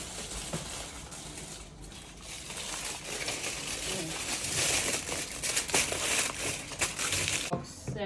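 Aluminium foil crinkling and rustling as it is pressed over a pizza to keep it warm, a busy run of close crackles that grows louder toward the end, with no talk.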